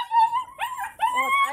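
A two-month-old German shepherd puppy whimpers in high, drawn-out whines, three close pleading cries in quick succession with no talk over them.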